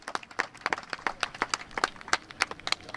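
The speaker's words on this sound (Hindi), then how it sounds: "प्लीज़ हम एक दूसरे के तालियाँ ज़रा बजा दें ज़रा प्लीज़" Scattered handclaps from a small protest crowd in Brussels, distinct claps at an uneven, sparse rhythm rather than a dense ovation, moderately distant.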